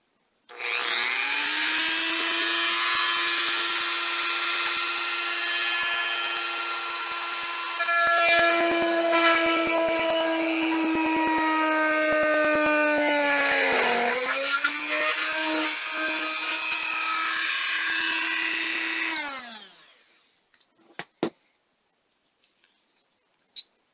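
A power drill whines steadily for nearly twenty seconds drilling into a plastic helmet, its pitch dipping briefly under load before spinning down, followed by a few small clicks.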